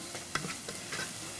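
Rice sizzles and fries in a pan while being stirred, a steady hiss with a few soft scraping strokes from the spoon, close and continuous.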